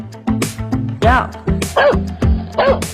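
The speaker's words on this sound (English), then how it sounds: "dog," A dog gives a rapid series of yapping barks and whimpering yips, several sharp bursts in quick succession over rhythmic background music.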